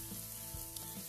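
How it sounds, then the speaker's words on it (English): Sweet potato chips of a New Zealand variety frying in a pan, giving a steady close sizzle with a few soft crackles and stirring knocks, with no talking. "so I'm frying them up"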